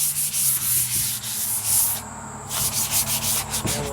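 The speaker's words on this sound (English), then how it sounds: "I'm just finishing up wet sanding with 220 grit" A 1970 Camaro hood is wet-sanded by hand with 220 grit sandpaper, giving close, continuous scratchy rubbing in back-and-forth strokes with a brief pause midway.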